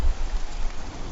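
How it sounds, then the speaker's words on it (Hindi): Steady rain pattering on a surface, a dense, even wash of droplet noise at moderate loudness with no voices or other sounds. "बारिश"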